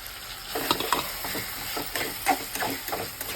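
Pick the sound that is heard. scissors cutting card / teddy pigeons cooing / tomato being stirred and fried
tomato being stirred and fried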